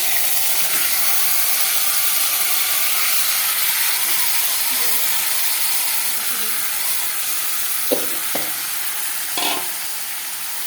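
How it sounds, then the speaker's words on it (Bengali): Marinated meat dropped into hot oil in a home kitchen, giving a loud, steady sizzle and hiss throughout, with a few clanks of a spoon or pot near the end. "এই যে তেলটা হয়ে গেছে, এখানে যে মাখা মাংসটা আমি এখন দিয়ে দিব"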